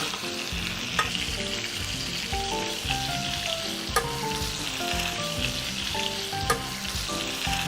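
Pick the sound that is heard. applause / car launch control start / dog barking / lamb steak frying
lamb steak frying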